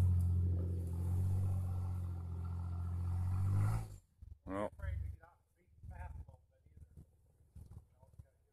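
A Jeep engine drones steadily under throttle, loud and close, while climbing a glare-ice hill, then cuts off abruptly as voices talk over quieter background sounds.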